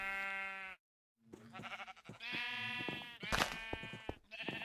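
Sheep in the video game Minecraft bleat repeatedly in a farm pen, a string of close, loud wavering calls broken by a short silence near the start.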